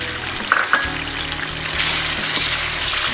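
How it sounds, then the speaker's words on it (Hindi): Milk goes into a pan of frying boneless chicken and onions, and the steady, close sizzle swells and hisses more loudly as the liquid hits the hot pan. Nobody speaks. "अब इसके अंदर हम आधी प्याली दूध जो हमने लिया था वो डाल देंगे।"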